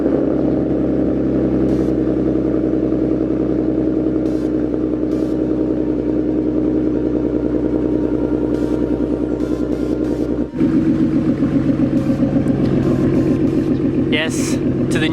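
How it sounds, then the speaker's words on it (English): A Ford Mustang V6 runs steadily in cold weather with a continuous low, throaty rumble that holds near and loud, its tone shifting noticeably about two-thirds of the way through. "I think I'll be able to get you guys a good cold start too."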